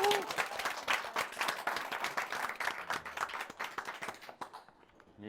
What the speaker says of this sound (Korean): 일단 박수 한번 쳐주세요.